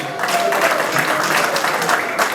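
Congregation applauding at a wedding celebration, a steady wash of many hands clapping and cheering at close range, sustained without a break.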